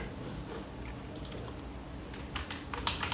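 Typing on a Bluetooth keyboard paired with an Android phone: quiet, irregular key clicks, sparse at first and then thicker in quick clusters toward the end, over a soft steady background hiss.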